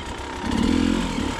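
An enduro motorcycle engine runs close and loud while the rider works the clutch, a steady buzzing drone that swells into a rougher, pulsing rev halfway through and stays raised to the end, with no talking.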